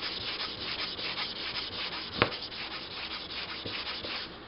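Block sanding high build primer on a fiberglass bumper by hand, a steady close scratchy rubbing in quick back-and-forth strokes with one sharp knock midway, no voices.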